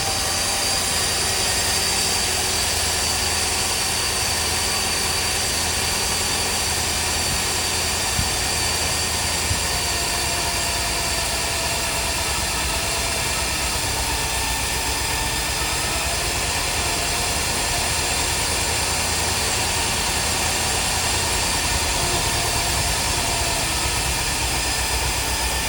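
A 49-year-old Ford Thunderbird big block engine runs with a loud, steady, unbroken drone and a dense rumble throughout, close by and with no voices over it.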